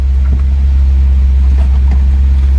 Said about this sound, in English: Sounds like it's running on all 8 cylinders.